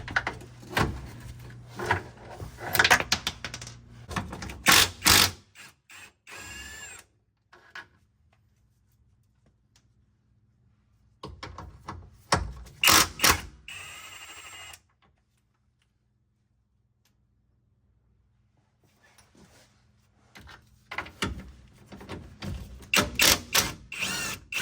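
Ratchet wrench zipping out 17 mm steering rack bracket bolts on a Nissan S14 during a rack bushing replacement, heard as three close bursts of rapid clicking separated by quiet pauses while each bolt spins loose.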